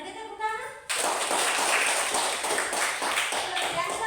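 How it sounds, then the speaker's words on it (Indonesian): A classroom of students breaks into brisk, close handclapping right after a brief spoken moment, the claps sustained and fairly loud. "Iya, mari kita tepuk tangan."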